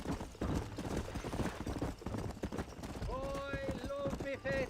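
Horse hooves gallop in the Red Dead Redemption western video game, a rapid, rhythmic clip-clop under game dialogue and voices, with a horse whinnying near the end.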